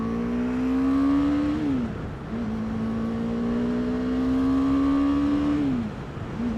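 A 2018 BMW G310R single-cylinder motorcycle engine and exhaust rev up, a buzzy rising whine climbing through two long pulls with a brief dip between them, close and loud with no talk.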